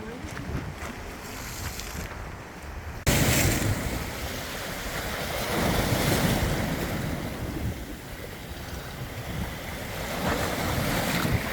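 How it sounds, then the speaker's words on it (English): Waves wash and crash on the rocky shore at Alcatraz in a steady roar, mixed with gusty wind buffeting the microphone. "Doesn't the sound of the crashing waves just speak to your soul?"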